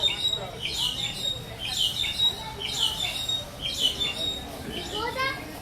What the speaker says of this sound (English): I think it's where all the birds are.